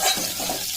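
Soybean chunks frying in a little hot oil, giving a continuous close, bright sizzle with no pauses over a brief moment.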